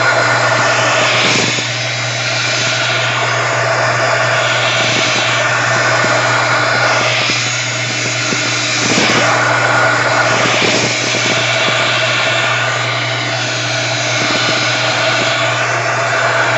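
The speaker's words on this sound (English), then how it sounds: "So I'm opting for my heat gun." A loud, steady electric heat gun roars continuously with a rushing, whooshing tone and slight surges in intensity, with no talking.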